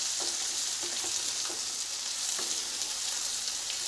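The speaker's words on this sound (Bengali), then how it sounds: "বন্ধুরা পেঁয়াজের সঙ্গে চিকেনটাকেও আমরা একটু ফ্রাই করে নেব" Large chicken pieces fry with onions in a pan over medium to high flame, giving a steady close sizzle broken by a few scraping stirs, with no talk.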